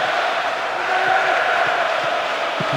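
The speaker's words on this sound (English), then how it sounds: "I have to say the crowd is adding to this as a spectacle. Noise they're making is terrific." A stadium crowd roars in Pro Evolution Soccer 2009 during an Arsenal versus Manchester United match, a dense, sustained wash of cheering and chanting at a constant loud level.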